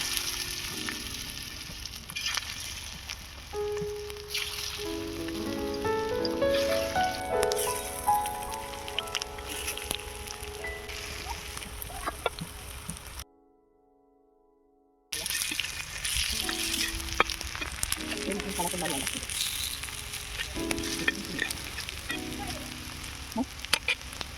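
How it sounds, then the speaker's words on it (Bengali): Prawn fritters frying in hot oil give a steady, close sizzle and crackle that runs throughout, broken by about two seconds of silence partway through. "আবারও বাকি চিংড়ির বড়াগুলো ভেজে নেব"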